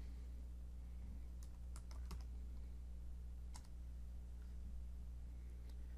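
Quiet, scattered keystrokes on a computer keyboard over a low steady hum, a few quick taps in short clusters with pauses between them.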